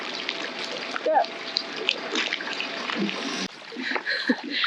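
A boat slides off its trailer into the water at a launch, with splashing and sloshing that rise and fall while people talk over it nearby.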